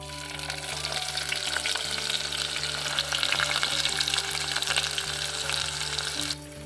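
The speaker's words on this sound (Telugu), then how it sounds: "కొంచెం ఆవాలు ఆయిల్ వేడైంది ఉల్లిగడ్డలు వేస్తున్నా" Onions sizzle and fry in hot oil with mustard seeds, a loud, steady crackling sizzle that runs throughout with occasional stirring, while a constant hum sits underneath.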